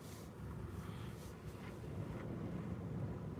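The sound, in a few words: wind blowing past the car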